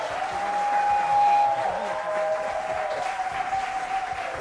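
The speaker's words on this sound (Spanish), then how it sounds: "ahorita el público está aplaudiendo" Studio audience at a Saturday television show applauding, a continuous wash of clapping with a swell in the middle, moderately loud, with a steady whistle-like tone and faint voices mixed in.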